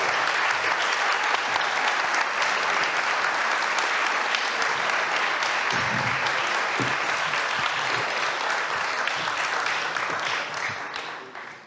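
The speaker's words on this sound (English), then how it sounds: "how about a round of applause?" Audience at a county supervisor candidates' forum in Sacramento gives a long, steady round of applause, dense and even throughout before tapering off at the close.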